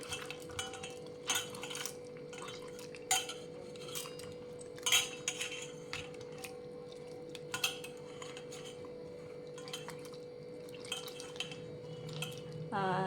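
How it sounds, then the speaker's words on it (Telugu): Soft tomatoes smashed by hand in a metal pot while making South Indian rasam, with intermittent squelches and clinks of utensils against the vessel over a steady kitchen hum. "మీరు దీంట్ని ఇలాగా బాగా స్మాష్ చేయాలి చేత్తోటి"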